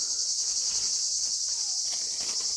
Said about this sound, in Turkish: Kafana konuyor çekirge. Çok dolu var burada ya.